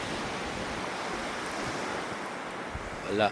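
Ocean surf washes along a long, empty beach as a faint, steady hiss of breaking waves, heavily mixed with wind buffeting the microphone, ending in a brief louder gust.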